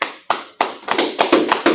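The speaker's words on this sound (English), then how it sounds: "with that, clap it up." Members of a class at the Israelite School of Universal Practical Knowledge in Harlem, New York clap together in sharp, loud bursts, first a few spaced claps and then faster, denser rhythmic clapping, close by with no talk.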